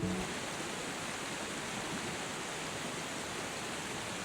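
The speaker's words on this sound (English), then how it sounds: "You got a nice view of the waterfall out this window." A waterfall heard from indoors through a window gives a steady, even wash of rushing water, constant and unbroken, with no talking over it.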